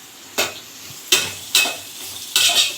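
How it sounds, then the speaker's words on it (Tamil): Pan-sautéing and stirring at a home stove, four loud bursts of scraping and sizzle at irregular intervals over a steady low frying hiss, close and with no talking. "நல்லா வதக்கிக்கலாம். நல்லா கிண்டிக்கோங்க."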